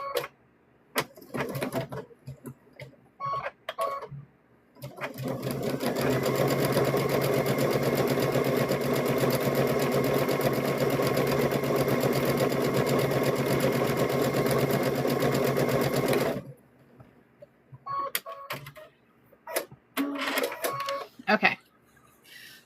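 A sewing machine stitches down a seam on a handmade stuffed bear, humming steadily for about eleven seconds, with someone talking briefly before and after the run.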